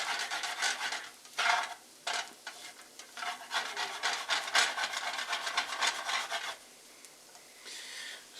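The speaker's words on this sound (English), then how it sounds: "it's also pretty important to scrape all the stuff off, because that will just grab onto the eggs" A utensil scrapes leftover residue from a pan in a college kitchen, short rasping strokes in an irregular rhythm, close and fairly quiet, with pauses between bursts.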